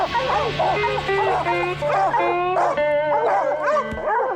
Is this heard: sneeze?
no